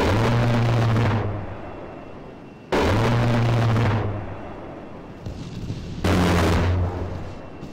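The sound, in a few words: bombs exploding from A-10C in video game ARMA III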